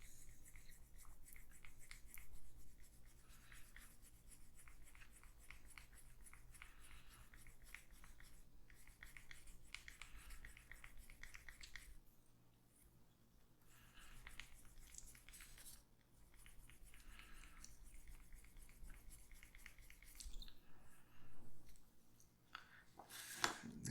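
A leather edge is burnished with a compound: soft, continuous rubbing and squeaky friction, close and quiet, with short pauses between passes and no talking.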